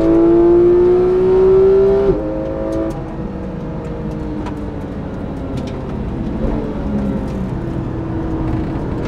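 A modified Porsche GT3 races on a track, its engine loud and close, a sharp rising whine that drops abruptly at a gear change, then climbs again through repeated revs.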